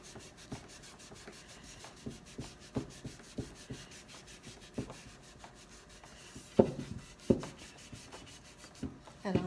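Paint is rubbed back to black on a painted thrift store item, soft scattered scrubbing and scuffing strokes with occasional sharper taps, quiet and close.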